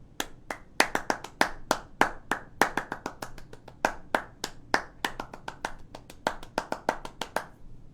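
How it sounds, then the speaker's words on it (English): One person claps a rhythmic line during a virtual open mic night, sharp close hand claps in an uneven, syncopated pattern of about forty hits, clear and alone with no talking. "I'm going to clap a line."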